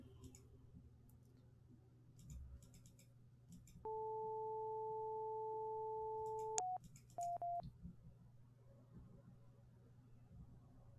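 Telephone dialing tones in the Police Quest 3 video game: a steady two-pitch tone holds for about three seconds, then several short beeps follow, alone over a quiet low hum with no talking.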